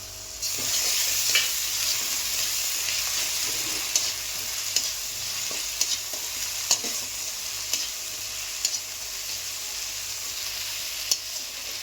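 Onions and green chillies fry in a pan for a fish curry, giving a steady close sizzle all the way through, with scattered clicks and scrapes of stirring.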